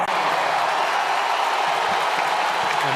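A basketball arena crowd at a 2022-23 Boston College vs Wake Forest men's game roars and applauds in a dense, sustained wash of cheering that holds steady throughout.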